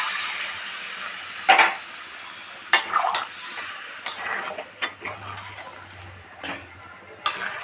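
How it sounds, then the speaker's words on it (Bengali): Hot water goes into a pan of fried spices, giving a soft steady sizzle with scattered clinks and stirring scrapes of a utensil against the pan. "গরম জল দিয়ে দিচ্ছি পরিমাণ মতো"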